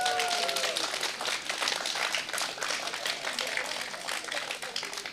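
Crowd at an outdoor political rally applauding, a dense steady wash of clapping lasting throughout, fairly loud with some voices mixed in.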